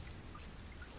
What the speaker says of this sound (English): Welcome to the city of perpetual rain.